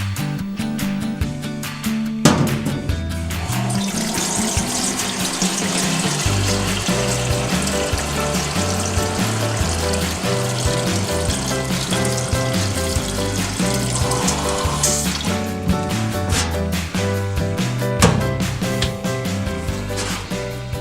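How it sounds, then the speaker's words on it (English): Tap water rushes steadily into a cooking pan for about twenty seconds, a loud continuous splashing hiss close up with slight shifts in tone as the pan fills and no talking. "So let's go and fill this with water now then"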